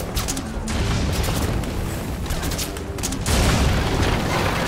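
A mounted turret fires during a helicopter section of Metal Gear Solid V: Ground Zeroes, giving dense, sustained rapid bursts of booming gunfire with brief gaps, loud and close over the engine rumble.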